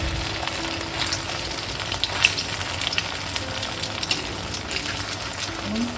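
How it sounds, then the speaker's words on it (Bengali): Chhana koftas frying in hot oil give a steady, close sizzle with occasional louder crackles and bubbling, continuous throughout with no talking. "আমি কোপ্তাগুলো আস্তে আস্তে একে একে ভেজে নেব"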